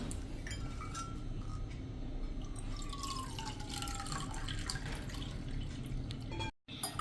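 Water trickles and drips into a bowl of gram flour with light clinks of utensils, a continuous soft pour close by, ending abruptly.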